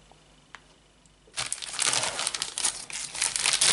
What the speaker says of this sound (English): Massacre the rest of this seal to get the contents out.